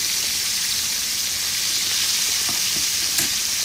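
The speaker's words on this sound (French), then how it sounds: "je suis également en train de faire frire des poivrons" Whiting fish and peppers fry in hot oil with a loud, steady sizzle, punctuated by a few light pops and crackles, and no talking.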